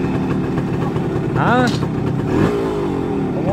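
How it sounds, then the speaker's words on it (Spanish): A 50-year-old motorcycle engine runs nearby, starting and revving with a steady mid-pitched drone and a brief rise in pitch partway through, while a voice briefly speaks over it. "Pero les voy a mostrar para que vean que si sí arranca la moto y todo."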